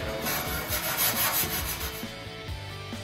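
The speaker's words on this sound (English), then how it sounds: "Go ahead and wire brush any rust or corrosion you may find in the pack." Wire brush scrubs rust and corrosion off a Toyota Prius hybrid battery pack in close, rhythmic rasping strokes that pulse quickly back and forth throughout.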